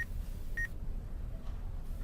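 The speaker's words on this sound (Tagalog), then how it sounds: "Yamada, tingnan mo yung susunod na text" In an animated series, a cellphone gives two short, faint electronic beeps in quick succession, signalling an incoming text message, over a low steady background hum.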